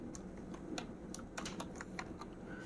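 Steady, rapid typing on a computer keyboard while CSS and HTML are written, a run of light clicks heard close over a constant background hum, with nobody speaking.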